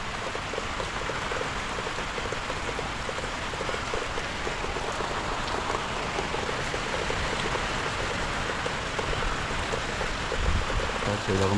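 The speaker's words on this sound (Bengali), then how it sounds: "এখন বাইরের কন্ডিশনে প্রচুর বৃষ্টি হচ্ছে" Heavy rain pours down outside a house as Cyclone Remal's storm blows through, a dense, steady hiss of water on surfaces that stays loud and unbroken from start to finish.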